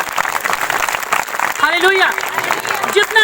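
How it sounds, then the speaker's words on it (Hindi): A church congregation claps for God during a worship meeting, a steady wash of applause running underneath a loud voice that speaks and calls out throughout. "ताली बजाएंगे सब लोग परमेश्वर के लिए।"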